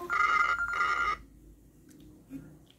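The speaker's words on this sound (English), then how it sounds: "there's a call notification on this number" A smartwatch rings with a Bluetooth call alert from a paired Samsung S8 Ultra phone, a short electronic ringtone burst that cuts off abruptly, followed by quiet room noise and a faint click.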